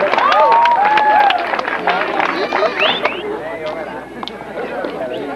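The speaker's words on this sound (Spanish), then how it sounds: "un aplauso también para Candelán Antonio por ahí" Crowd applause and cheering at a mojiganga festival celebration in Ranchos de Arriba, Nayarit, loud at first then easing into scattered clapping, with voices and festive sounds mixed through the noise.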